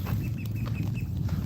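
Geese calling at a lake, with short nasal honks repeating every fraction of a second at moderate distance over a constant outdoor wash, with no talking.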